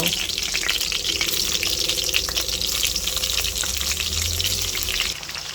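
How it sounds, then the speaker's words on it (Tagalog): Eggplant fries in a pan, a loud, continuous crackling sizzle that holds steady throughout and eases slightly at the very end. "magpiprito lang po tayo ng talong"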